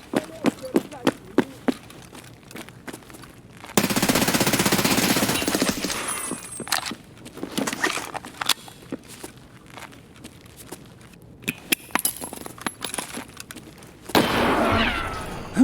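Gunfire in Escape from Tarkov: sharp rapid shots and bursts crackle through the opening seconds, a loud sustained blast and roar of a grenade swells around four seconds, then more scattered shots, footsteps and a second loud burst near the end.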